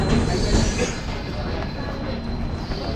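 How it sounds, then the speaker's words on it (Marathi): A train arriving at a station rumbles past close by, its wheels grinding and squealing on the rails in a dense, continuous roar. "आली ट्रेन."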